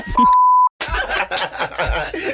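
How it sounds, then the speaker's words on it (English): A single steady electronic censor bleep covering a spoken surname cuts across the start, followed by a silent gap, then snickering laughter and chatter from nearby voices. "if you just heard some beeps, that's because we just dropped our producer's last name"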